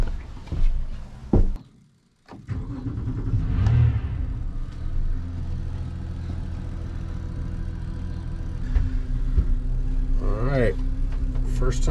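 A 2024 25ft North River fishing boat engine cranks after a brief hush, then settles into a steady low rumbling idle with occasional knocks, while people talk nearby.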